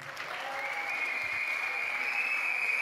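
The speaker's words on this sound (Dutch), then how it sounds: "Een donderend applaus voor de waterpolo's van de Zijl." A crowd at a Leiden youth sports awards ceremony gives dense, steady applause for the De Zijl water polo players, a continuous wash of clapping alone with a faint whistle-like tone running through it.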